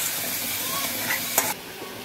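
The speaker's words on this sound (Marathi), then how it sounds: "तेलामध्ये परतून घ्यायचा आहे मसाला" Masala stuffing for mackerel fries in hot oil, a close, steady sizzle with a brief sharp clatter near the end as the pan is stirred.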